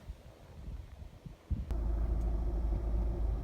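Honda Civic 1.6 i-DTEC diesel engine idling, heard from inside the cabin: a few soft knocks, then a steady low rumble that continues evenly for the rest of the clip.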